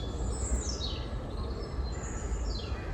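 Small tits call repeatedly while mobbing a Eurasian jay in Paris, thin high chirps and descending notes sounding faint over a steady low rumble of city background noise.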